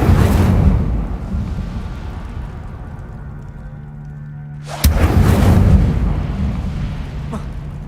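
A fiery burst from the Incendio spell in the video game Hogwarts Legacy: a loud whooshing blast opens, fades into a low rumbling hum, then a second sharp eruption hits near the end and slowly dies away.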